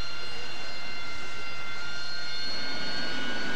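Jet aircraft engine roaring steadily during a takeoff attempt in DCS World, a loud, constant whine with no voices over it.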